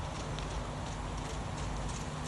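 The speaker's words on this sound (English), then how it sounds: "The horse is becoming progressively more relaxed and is moving with a slower rhythm" A relaxed horse moves in a circle during a gait evaluation, its hooves clip-clopping in a slow, even rhythm, faint under steady background noise.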